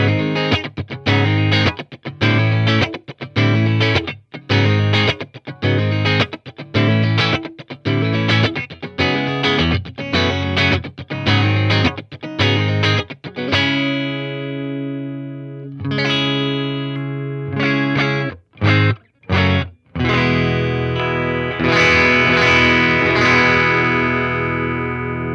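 Electric guitar played through a Monoprice/Harley Benton tube amp set to volume 4. Loud, slightly overdriven chords are strummed in a chopped rhythm, then ring out into sustained notes and brief string stabs, with no voice over them.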